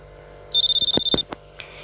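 A telephone rings while someone calls a friend: a single short burst of rapid warbling electronic tone, clear and close, followed by a few faint clicks in a quiet room.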